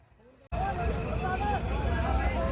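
A tractor engine runs with a constant heavy low rumble that starts abruptly and carries on steadily, with people talking and voices in the background over it.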